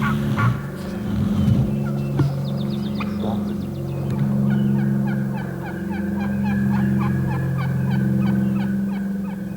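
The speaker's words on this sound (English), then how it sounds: "Now, the toms do gobble back, but they don't come in." Wild turkey toms gobble repeatedly at a middling distance in spring, several calls overlapping in bursts against a steady outdoor background.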